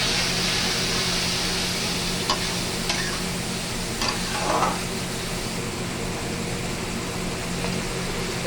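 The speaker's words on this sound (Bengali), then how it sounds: "অল্প একটু জল দিচ্ছি মশলাটা ভাজার জন্যে" Spice paste for a Bengali potol and fish curry frying in a pan with a splash of water, a steady close hiss with soft stirring scrapes and a few brief clinks, no talking.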